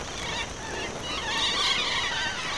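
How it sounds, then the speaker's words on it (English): Birds call outdoors with goose-like honking and squawks, a steady chorus of overlapping calls at moderate distance with no talking. "Birds!"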